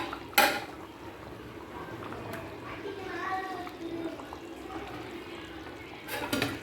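A spoon stirs spicy pepper chicken in a cooking pot, with a couple of sharp metallic clinks against the rim at the start and end. A soft simmering clatter fills the gaps, and a person talks throughout.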